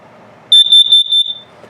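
An RV gas detector in a 2021 Forest River Salem 22RBS runs a self-test: a loud, high-pitched electronic alarm beeps in a quick series of about five pulses, then stops.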